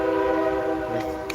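A train rolling over a railway bridge in Maryland with a steady, droning horn held throughout, loud and near, over a low rumble of the cars.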